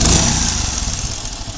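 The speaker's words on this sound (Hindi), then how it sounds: "इसके अंदर टाइमिंग चेन आवाज़ कर रही है" A Hero iSmart 110cc motorcycle engine runs close by at idle, loud and rough, with a steady metallic clattering rattle from its timing chain under the exhaust noise.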